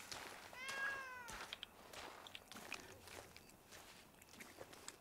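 A cat meows in a Spanish-language roleplay video game, a single rising call near the start followed by soft footsteps and small clicks over a faint, steady background.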